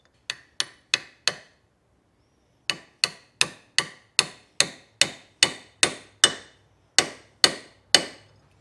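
Sharp metallic taps seat a starter bushing for a 1962 Ford Y-block/FE starter: four quick strikes, a short pause, then about a dozen evenly spaced blows, close and distinct with no talking.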